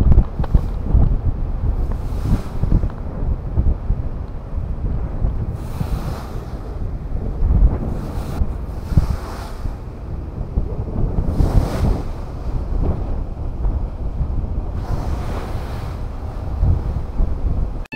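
Rough sea waves surge and wind buffets the microphone during a ferry crossing toward Matnog, a constant loud roar with periodic gusts and splashes throughout.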